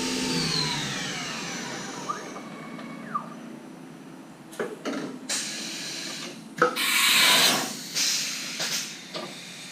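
Haas CNC machine spindle spinning down from 8,000 RPM, a falling whine that sweeps downward over the first few seconds, followed by bursts of hissing air and mechanical clunks.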